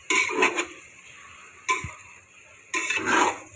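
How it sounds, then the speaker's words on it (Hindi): A utensil stirs chicken fried rice in a restaurant-style pan, making three short bursts of scraping and clinking with quiet gaps between them, close by and with no one talking. "अब हम इसके ऊपर इसको थोड़ा सा हिला लें, ठीक, ताकि ये मिक्स हो जाए"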